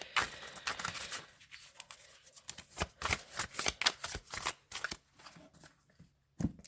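Cards are shuffled and drawn for a tarot-style reading. Close, crisp riffling and sliding bursts come in irregular flurries, with brief pauses between them.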